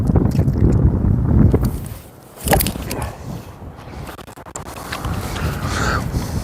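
Strong wind blows outdoors at a golf driving range on a cold day, about 39 degrees, buffeting the microphone with a steady rumbling roar that dips briefly before gusting back up.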